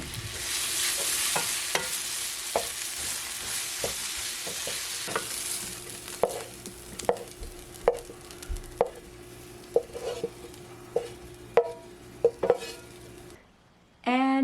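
Veggie stir fry with sesame oil sizzles steadily in a pan, with repeated sharp taps and scrapes of a utensil stirring it; close and continuous, with no talking.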